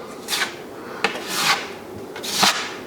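A putty knife scrapes and rubs drywall mud into small holes in an interior wall during a quick repair, giving several short rasping strokes close by, with no talk.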